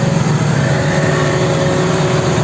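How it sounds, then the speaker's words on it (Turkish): A steady, rumbling Massey Ferguson 7716S tractor diesel engine runs continuously at a constant idle, loud and close, with no voices over it. "bir de motorun sesini dinleyelim"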